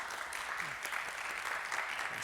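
A church congregation applauds to welcome newcomers during a Sunday service, a steady wash of clapping that stays fairly quiet and distant for its whole short span.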